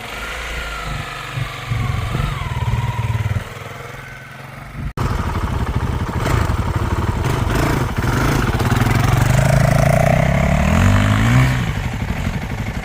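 Honda 300L and Honda 450RL dirt bikes ride off-road. Their engines rumble loud and close, then rev and climb in pitch as they accelerate, with a sharp clatter partway through.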